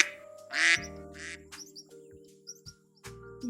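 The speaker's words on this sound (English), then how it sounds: "Along comes Mother Duck." A few short nasal quacks from a duck near the start, then quieter scattered calls with faint chirps and a low steady hum underneath.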